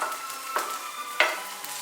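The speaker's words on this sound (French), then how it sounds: "Moi, je vais mélanger doucement" Milk mixed with flour being stirred gently into melted butter in a pan over heat: a soft, steady sizzle with a few scraping strokes from the utensil, quiet and close.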